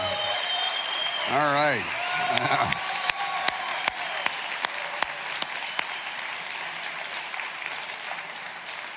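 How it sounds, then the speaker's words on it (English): Church congregation clapping for a man standing during a service; steady, full applause rises quickly and carries on, with a brief spoken voice early on over the clapping. "let us clap for you"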